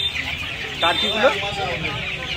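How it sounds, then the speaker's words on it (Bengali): Poultry calls at a busy outdoor bird market where turkeys and turkey chicks are sold, with a short chirping, clucking burst near the middle over steady crowd noise and talk. "এখানে দেখতে পাচ্ছেন টার্কি মুরগি আছে, টার্কি মুরগির বাচ্চা এগুলো।"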